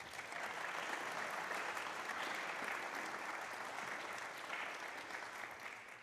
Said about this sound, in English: that is the first time I have ever heard a patent discussion elicit applause